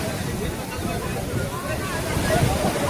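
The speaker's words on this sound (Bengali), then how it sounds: "দেখো কত বড় বড় ঢেউ আছে" Large ocean waves roll and break at Puri Golden Beach in the evening, a continuous roaring surf mixed with wind noise on the microphone and distant crowd murmur.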